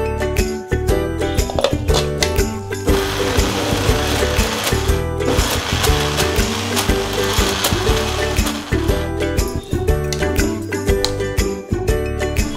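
Wet grinder churning black-eyed pea batter for vadas with cumin and ginger, a steady loud mechanical whir with rhythmic clanking and grinding throughout, no voices.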